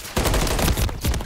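Rapid gunfire in a first-person shooter ranked match with a Rival 9 weapon: loud, close bursts of shots in quick succession, briefly dipping before resuming, with no speech.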